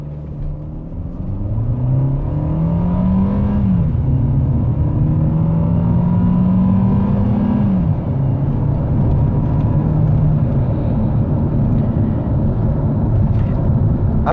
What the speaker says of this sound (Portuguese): vamos dar uma aceleradinha para ver como que é a ação do controle de estabilidade, de tração aqui numa arrancada um pouco mais forte